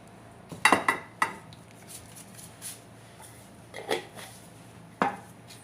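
Crisp snapping and crackling of a fried gol gappa (pani puri) shell being broken by hand, a few sharp close cracks with lighter crunches after, alone without talk.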